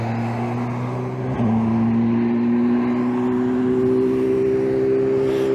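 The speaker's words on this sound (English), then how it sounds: "We're here at night at the rare time of night where there's a lot of traffic." Night traffic hums steadily along a road near a bridge, with a car passing by under a low engine drone and a rising whir, continuous and fairly close.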